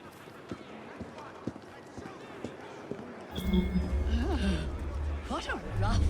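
A horse gallops in the video game Assassin's Creed Syndicate, with scattered hoof clops at first giving way to a dense rumbling run, while a voice talks over it.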